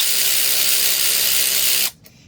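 A cordless power ratchet wrench tightening a nut on a workbench, a loud steady whirring buzz running close up for almost two seconds before cutting off abruptly.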